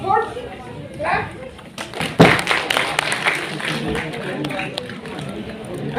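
A group breaks into scattered clapping that swells into brief applause, with voices and crowd chatter mixed underneath.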